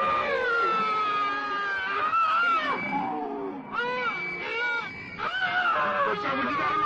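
A person screams and wails in anguish in a 1974 Texas horror film, rising and falling cries that come in several long, piercing bursts close up, with a brief pause midway.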